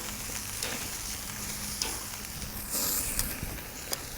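Picanha steaks sizzle on a Slow 'N Sear kettle grill, a constant close hiss broken by sharp pops and crackles and a brief louder flare of spitting fat near the end, with no one speaking.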